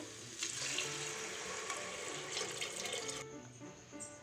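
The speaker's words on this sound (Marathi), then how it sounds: "आता यामध्ये पाणी टाकून घेऊ।" Water pours in a continuous splashing stream into a spiced masala rice mixture in a cooking pot, close and steady for about three seconds before thinning out at the end.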